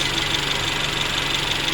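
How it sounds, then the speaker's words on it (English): A Mercedes CLA250 engine idles steadily, freshly reassembled after a broken valve spring repair, its high pressure fuel pump and injectors giving a continuous ticking clatter over the low hum, close and unbroken throughout. "these engines are pretty noisy, and a lot of it comes from this high pressure fuel pump right here and the injectors"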